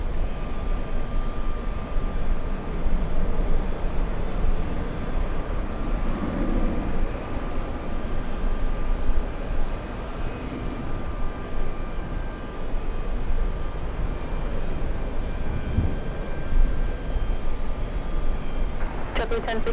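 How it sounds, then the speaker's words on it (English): A big Delta airliner taking off from JFK bound for Athens, a steady distant engine roar sustained throughout at moderate level, with a faint tonal whine over it. "Alright, big Delta takeoff."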